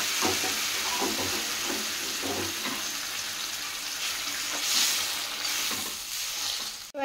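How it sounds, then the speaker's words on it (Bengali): Chickpea curry frying in a pan with hot water added, a steady close hiss of sizzling with stirring scrapes throughout, swelling briefly before a sudden knock at the end. "আবার একটু কষিয়ে এবার এর মধ্যে গরম জল অ্যাড করে দেব"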